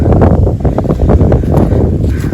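Strong wind buffets the microphone outdoors at ancient burial mounds, a loud, roaring rumble with no pauses through the whole short stretch.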